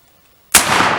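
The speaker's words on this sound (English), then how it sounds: "Cap and fire." A muzzle-loading musket fires once after half a second of quiet, a sharp, very loud close blast followed by a sustained roaring rumble that fills the rest of the moment.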